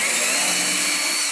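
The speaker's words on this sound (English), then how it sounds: "you do have to drill out this little plastic covering with a 5/16" A power drill with a 5/16 bit bores through a small plastic covering on a 2009-14 Ford F150 lower grille, a loud, steady high whine that runs alone before spinning down at the end.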